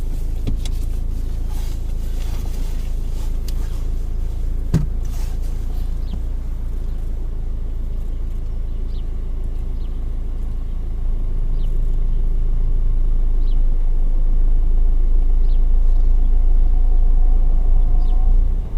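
Car reversing slowly during a driving lesson: a steady low engine rumble with faint cabin rattles, swelling slightly louder toward the end, no one speaking.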